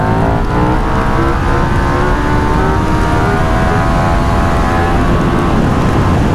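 A KTM 1390 Super Duke R EVO motorcycle engine roars loudly and steadily on a race track during a stand-up wheelie, its revving tone rising as it pulls hard with no talk.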